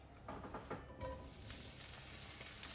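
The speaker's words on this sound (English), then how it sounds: "So we're just gonna fry this up a little bit, because it is called fried rice" Spam sizzling and frying in olive oil in a pan over low-to-medium heat, a steady close crackle that jumps louder about a second in and holds as a continuous hiss with faint stirring.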